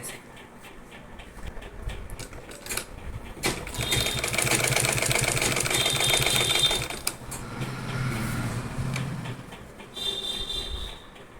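A sewing machine runs a steady stitching burst of a few seconds along a saree belt, fairly close and loud, then slows into softer, uneven stitching and handling noise.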